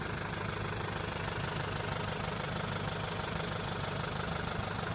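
A driverless tractor rolls along a field while a pasture electric fence is taken down, its engine a steady, knocking rumble heard at moderate distance under a constant wash of noise.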